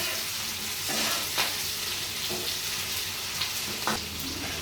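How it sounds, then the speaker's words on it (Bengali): Capsicum and onion fry together in a pan for chilli paneer, a steady close sizzle broken by occasional sharp stirring clinks and scrapes, with no voices. "ক্যাপসিকামটাও ভাজা হবে আর পেঁয়াজটাও ভাজা হবে"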